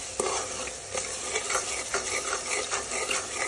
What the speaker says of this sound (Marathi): हा चांगला फ्राय करून घेते मी